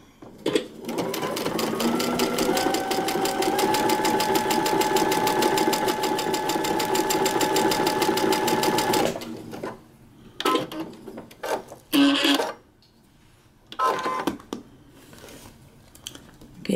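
A sewing machine runs steadily for about nine seconds, stitching a paper-pieced quilt block, then stops, followed by a few brief rustles and handling noises.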